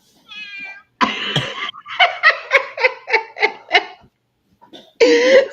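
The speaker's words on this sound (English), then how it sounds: "I think that was her meowing." A cat meows several times in quick succession, short nasal cries close by, with a brief high squeak before and a longer cry at the end.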